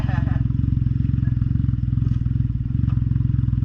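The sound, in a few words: Can-Am Ryker 900 with RLS Predator exhaust riding by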